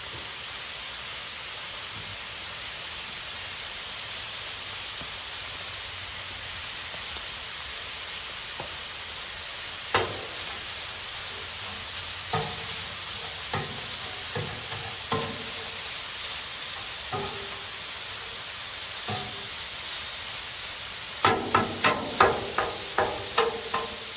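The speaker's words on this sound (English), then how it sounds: "Alright, I'm going to throw the chorizo down." Chorizo frying on a Blackstone flat-top griddle, a steady hiss of sizzling fat with occasional scraping and tapping of a spatula that grows into a quick run of clacks near the end.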